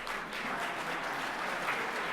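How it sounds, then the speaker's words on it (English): Faint, steady audience applause at an honors presentation ceremony, a brief wash of distant clapping. "let's give them a round of applause"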